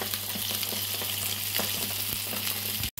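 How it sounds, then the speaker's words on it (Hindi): Salmon frying in a pan over high heat, a loud unbroken sizzle with low hum and occasional small pops, cutting off abruptly near the end. "हम इसमें ऐड कर देंगे अपनी फिश। इसे 5 से 7 मिनट एक साइड से हमने पकाना है तेज आंच पे।"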